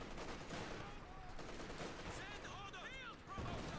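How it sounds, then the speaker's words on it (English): Machine-gun bursts and artillery fire rumble through a Company of Heroes 2 battle as a dense, continuous wash of gunfire, with a commentator talking over it. "Nice push here by Unknown Legend, using the machine gun and the artillery"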